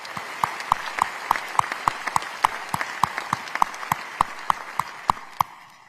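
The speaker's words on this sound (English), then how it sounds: "let's please join them all in a big warm round of applause and welcome these public servants" Audience at a county State of the County address applauding public servants: a small, fairly sparse crowd claps in distinct, rhythmic hand claps that stay moderately loud throughout and begin to taper off at the end.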